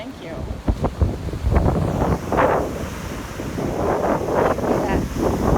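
Strong wind buffeting the microphone on a beach, a steady rushing roar with surf underneath and people talking at times.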